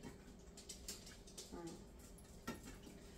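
A dog whimpers faintly in short, high whines over a steady background hiss, with one sharper yelp near the end.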